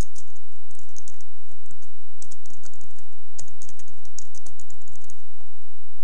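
A user name is typed on a computer keyboard during an Ubuntu 14.04 LTS installation alongside Windows 8.1, with close, rapid clicking keystrokes in irregular bursts over a low steady hum, with no talking.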